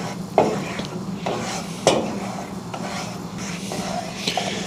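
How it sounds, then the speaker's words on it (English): A flour and butter roux stirred in a pan while browning for egg gravy: close, continuous scraping with a couple of sharper clinks of the utensil against the pan over a soft sizzle. "we're going to continue to stir and let this get to a brown color"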